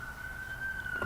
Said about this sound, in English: Oh, we got more sirens.